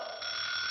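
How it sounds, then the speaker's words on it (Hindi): An alarm clock rings in the morning, a continuous high electronic buzzing tone that steps louder after a moment and holds steadily, close and alone. "अरे सुबह सुबह ये अलार्म क्यों बजने लगा?"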